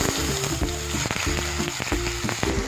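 Onion and chili paste hits hot oil spiced with cinnamon, cardamom and cloves, giving a loud, constant frying sizzle with rhythmic clatter and thumps from a utensil working the pan nearby.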